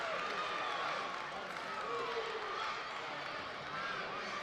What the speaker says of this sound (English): You can really hear the kids getting into it now. Absolutely. Behind the Eagles bench, just cheering for them.